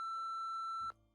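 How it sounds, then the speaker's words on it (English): An answering machine in a Nancy Drew video game gives a single steady electronic beep, clear and close, lasting almost a second before cutting off into a low hum. "wait for the beep and leave us a message"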